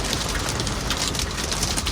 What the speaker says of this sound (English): This is the first time driving in this type of rain.